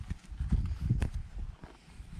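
An Ardennes draft horse mare walks, her hooves clip-clopping in an uneven run of soft, fairly close steps with no other sound.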